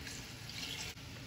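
Water pours steadily into a sauce pot for a pickling brine, a brief, close splashing rush with no talk.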